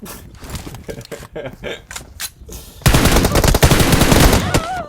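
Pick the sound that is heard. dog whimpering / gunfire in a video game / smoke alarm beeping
gunfire in a video game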